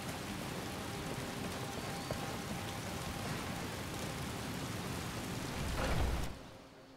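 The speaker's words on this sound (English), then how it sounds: "It's rather rain." Steady rain hisses continuously at moderate volume in the video game Skyrim, swelling slightly near the end before cutting off abruptly.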